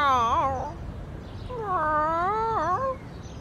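A cat yowls in two drawn-out, wavering cries, the second longer and rising and falling in pitch, close by with a faint background.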